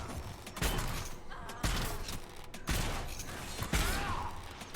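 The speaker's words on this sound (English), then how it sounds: "Okay, who was shooting at Varric?" Gunfire in Dragon Age Inquisition combat, sharp repeated shots at roughly one-second intervals over a dense, noisy battle backdrop with creaks and thuds.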